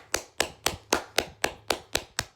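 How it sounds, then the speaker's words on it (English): One person claps alone in a room, eight sharp, evenly spaced hand claps in a steady rhythm, close and dry with a faint low hum underneath. "Me alone in my room clapping to myself"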